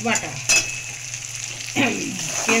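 Dried red chilli, cumin, capsicum, tomato, garlic and onion fry in oil in a kadai, a steady close sizzle with a few sharp scraping stirs of a spatula against the pan, no voices.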